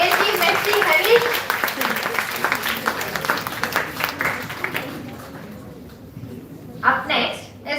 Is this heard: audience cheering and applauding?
yes